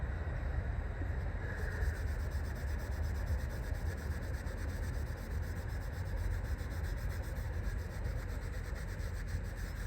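A steady, continuous close scrubbing and rubbing on the rear brake hub surface of a 2004 Mini during a rear disc and pad job, with no pauses and no talk.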